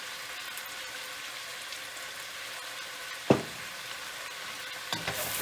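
Turkey neck for a Jamaican brown stew sizzles and fries in a pot, a steady hiss with a sharp scrape of stirring partway through and a few utensil clinks near the end.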